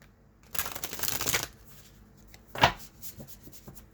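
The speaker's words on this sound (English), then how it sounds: "look, I can't even shuffle the cards" Large tarot cards being shuffled by hand: a fluttering riffle of about a second, then a single sharp card slap a moment later, close and fairly quiet with no talking.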